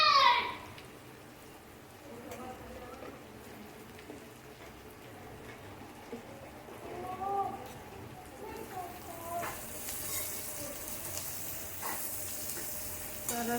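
Onion and bitter gourd curry with ground coriander-cumin and red chilli powder is stirred in a pan, giving a soft, quiet sizzle with scraping and stirring sounds and a brief clink near the start.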